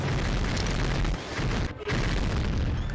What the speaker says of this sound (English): So now we're going to see the first demolition shot.